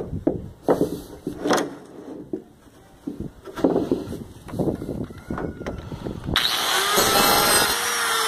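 Power tool cutting wood for roof construction, heard as a loud sustained whine in the last couple of seconds, after scattered knocks, handling noise and wind buffeting.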